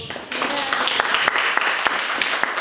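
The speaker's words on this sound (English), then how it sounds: "So, ladies, give a big round of applause." Ladies at a ladies' night giving a round of applause, scattered clapping of a small group with sharp individual claps under voices chatting.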